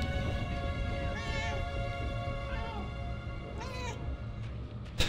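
A possessed cat in the video game Murdered: Soul Suspect meows several times in short rising calls over a steady droning game soundscape, moderately loud and clear.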